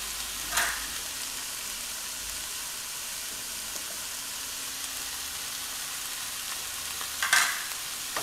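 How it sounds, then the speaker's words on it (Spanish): Onion and bay leaf frying in a pan, a steady soft sizzle throughout with a couple of brief utensil knocks as it is stirred, no voices. "vamos a seguirlo moviendo para que se aciclone perfectamente la cebolla con la hoja de laurel"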